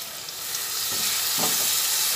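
Curry with sesame and Katla fish bubbles and sizzles in a pan after a little water goes in, a soft hissing fry with a couple of brief stirring scrapes, close and fairly quiet.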